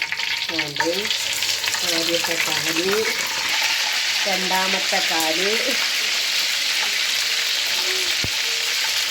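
Chicken pieces for a green chili–marinated fry drop one at a time into hot oil, where a loud, steady, close sizzle takes over and runs without a break. A person talks over the frying, counting as each piece goes in.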